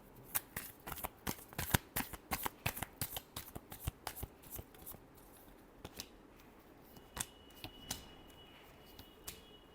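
Tarot cards shuffled by hand in a quiet room, a steady run of close, crisp riffling snaps and flutters that ease to a few scattered slaps toward the end, with no talking.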